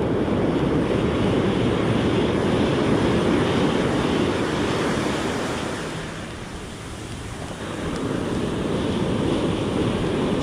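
Steady, loud ocean surf rolls onto a Southern California beach during surf fishing, a continuous broadband roar of breaking waves that eases briefly midway before swelling again, with wind buffeting the microphone and no voices.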